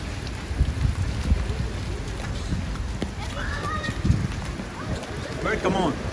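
Rain falls steadily outdoors in Kuwait, a continuous broadband patter running throughout, with a child's and adults' voices talking over it and a few scattered bird-like chirps.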